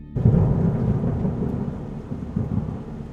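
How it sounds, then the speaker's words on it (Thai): Deep rumbling thunder rolls in loudly and stays heavy throughout, mixed with a steady rush of strong wind and rain at night in a jungle forest, with no voices present. "จู่ๆก็เกิดลมแรงฟ้าร้อง"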